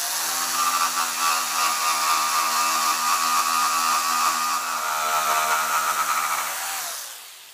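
A Jemar jigsaw whines and buzzes steadily through 20 mm plywood on a 45-degree bevel cut for several seconds, loud and close, then winds down and stops.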